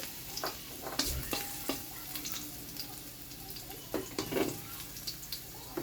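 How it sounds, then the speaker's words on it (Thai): Garlic sizzles and crackles in hot oil in a home kitchen, with stirring scrapes and clinks of a utensil against the pan throughout, fairly close and moderately loud, no talking. "น้ำมันร้อนแล้วนะคะ ใส่กระเทียมเลยค่ะ ใส่กระเทียมคนไปเรื่อย"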